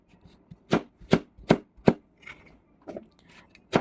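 A knife chops taro into small cubes on a cutting board, giving a series of sharp, close thuds in an uneven rhythm with short pauses between strikes.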